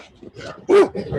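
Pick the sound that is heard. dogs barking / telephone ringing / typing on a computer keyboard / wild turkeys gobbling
dogs barking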